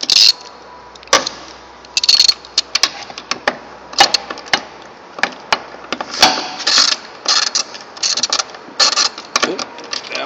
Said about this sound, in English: Once you have them all snugged up, then you can go through and tighten them up with the wrench.